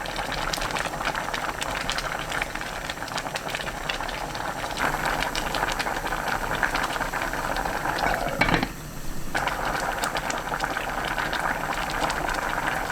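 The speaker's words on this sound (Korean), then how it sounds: "건새우, 파, 고추 넣고 3분 더 끓여주세요." Korean doenjang soup with mallow, potato, dried shrimp, green onion and chili boiling in a pot, a dense, continuous bubbling simmer heard up close, with a brief dip in the bubbling partway through.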